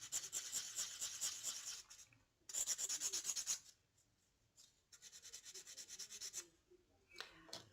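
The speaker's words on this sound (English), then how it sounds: "just get 800 or 1000 grit sandpaper" Sandpaper of 800 or 1000 grit buffing a copper cuff bracelet blank, giving bursts of dry, raspy rubbing strokes with short pauses between them, close and fairly quiet.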